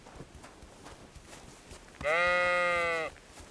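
A single sheep gives one clear, sustained bleat lasting about a second in the video game Kingdom Come Deliverance 2, rising out of faint background ambience.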